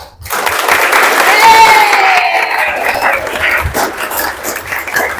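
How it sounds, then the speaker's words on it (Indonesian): A grade 7 informatics class of schoolchildren claps together in a room, a full, lively burst with some shouting and cheering mixed in, swelling early and holding steady before tapering slightly. "Kalau umpamanya hari ini menyenangkan, tepuk tangan yang meriah"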